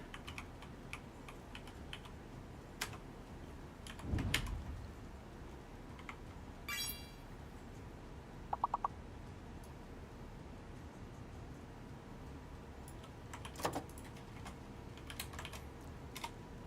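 A computer keyboard typing a shortcut, heard as faint, sparse key taps and clicks scattered over a quiet, hissy background, with a couple of slightly louder thuds and no talk.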